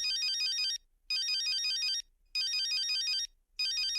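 An electronic phone ringtone plays in repeated bursts, a bright warbling tone about a second long, separated by short silences, loud and close.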